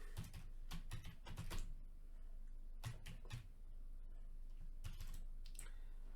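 Bursts of typing on a computer keyboard while writing code, quick clusters of soft keystrokes separated by short pauses, faint and close over a low steady hum.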